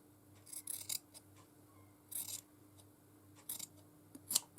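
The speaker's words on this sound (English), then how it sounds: "might need bigger scissors for that" Scissors snip through material during a stitchery journal project, several separate quiet cuts in short bursts with pauses between, alone in a still room.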